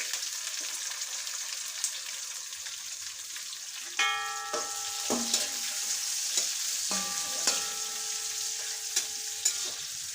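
Onions and green chillies fry in a pan with a steady, fairly quiet sizzle, broken by a few metallic stirring scrapes and ringing clinks of the utensil against the pan, with no talking.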